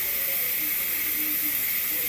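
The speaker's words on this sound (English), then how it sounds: "Kind of want to have it in the open area when it's releasing that steam." A Pampered Chef Quick Cooker electric pressure cooker vents steam in a steady, loud, close hiss that runs unbroken throughout, with no voices.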